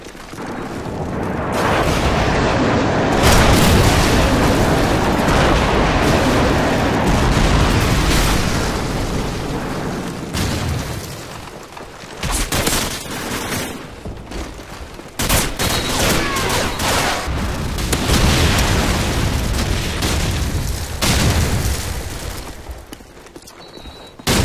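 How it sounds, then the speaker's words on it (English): Loud, dense airstrike explosions in Call of Duty 4, a string of heavy booms and rumbling blasts rolling one after another with gunfire-like crackle, sustained nearly throughout with brief dips between impacts. "Friendly airstrike on the way!"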